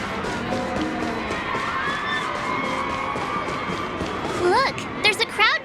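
A video-game crowd gathers during the Cocalia boss fight, a steady murmur of many voices that swells into brief excited cheers and shouts toward the end.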